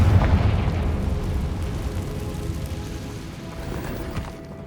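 A Confringo explosion spell in Hogwarts Legacy goes off as a loud, rumbling blast that fades gradually over a few seconds with a crackling, debris-like tail.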